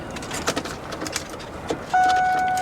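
Car keys jingle and rattle in short bursts near a wrecked car at a salvage auction yard, followed by a sustained electronic chime tone as a key turns in the ignition.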